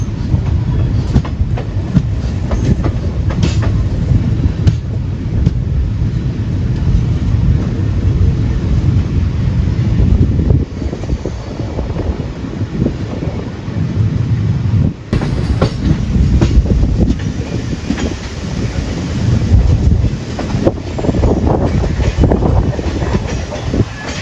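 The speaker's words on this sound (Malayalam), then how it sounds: "ഇപ്പോൾ 1:10 ആയപ്പോൾ വണ്ടി എടുത്തിട്ടുണ്ട് കേട്ടോ" A Chennai Egmore-bound passenger train runs on the main line, loud and continuous, with steady rumbling and rhythmic clickety-clack of the wheels over rail joints throughout.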